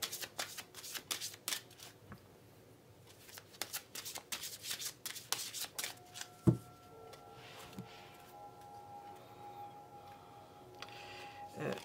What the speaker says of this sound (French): Je vais reprendre une carte comme ça.